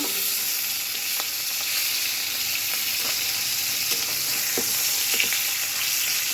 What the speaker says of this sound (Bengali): এক পিঠ ভাজা হয়ে গেছে, আরেক পিঠ হালকা করে ভেজে নেব।